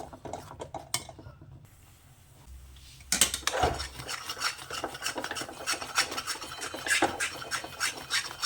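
Thick mawa (khoya) for gujiya being stirred quickly in a pan, a steady scraping rasp of spoon against metal that starts quietly, pauses, then turns loud and rapid for the rest, with no talking.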